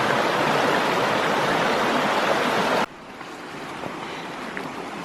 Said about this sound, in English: First water crossing.